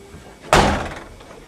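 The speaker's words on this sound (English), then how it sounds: "I said open the door." A door in a Vienna apartment slams shut with one loud sharp bang that rings out and decays over a second, with faint room sound before it.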